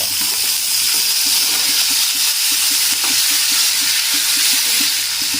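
Dried red chillies, curry leaves and capsicum frying in oil in a pan for a capsicum tomato fry, a loud, steady sizzle with a faint rhythmic scraping of stirring beneath it, close up and with no talking.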